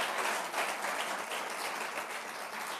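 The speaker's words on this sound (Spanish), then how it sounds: "Den un aplauso al Señor." A church congregation claps steadily in a continuous wash of applause at moderate volume, with no voices rising above it.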